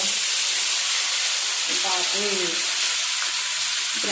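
Fish fries in hot oil with a loud, steady sizzle and hiss throughout, while a voice speaks briefly over the crackling.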